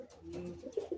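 A Madrasi pigeon gives a short, soft coo at close range, a low throaty warble lasting about a second.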